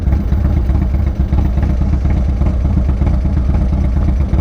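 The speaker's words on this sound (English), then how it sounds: "Oh man, this thing's ticking. It's getting like annoyingly loud." Motorcycle engine ticking loudly at idle, a close, steady mechanical clatter with a constant engine drone and no talk.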